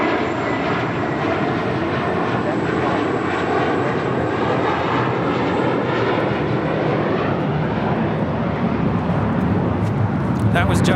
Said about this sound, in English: That was JetBlue 888 taking off to Boston